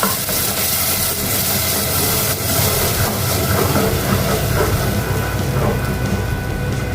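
A loud, continuous sizzling hiss of ground spice paste for egg curry hitting hot oil, steady and crackling throughout with no voices.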